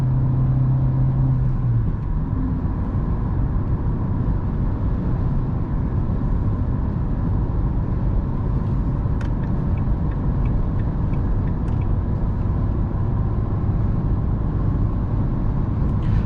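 A naturally aspirated Renault Megane 3 Business with a 110 HP engine runs on LPG in fourth gear at about 90, climbing a winding hill, with a steady loud engine drone and road rumble filling the cabin throughout.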